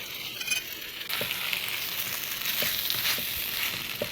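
Momo filling seasoned with black pepper fries in a pan with a continuous close sizzle, while a spoon stirs it through with soft scraping and occasional light taps.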